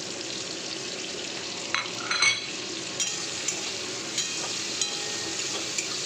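Ground turmeric, cumin and Kashmiri chilli powder frying in a pan with kochur loti stems, a soft steady sizzle under a few scraping stirs and light clinks of a utensil against the pan.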